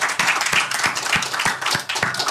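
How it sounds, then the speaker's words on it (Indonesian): Audience clapping greets a guest at an Indonesian stage event, a steady run of sharp, fairly close hand claps at a quick even rhythm. "Tepuk tangan buat Bung Yapto Suryo Sumarno."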